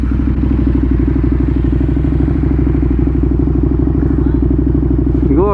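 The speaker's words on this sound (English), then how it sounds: "Whenever someone is interested in revving your bike, don't deny him the opportunity to do so." Motorcycle engine revved hard and held high for several seconds, a loud, steady, close-up roar with a rattling edge.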